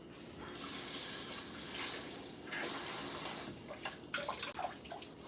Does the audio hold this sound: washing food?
yes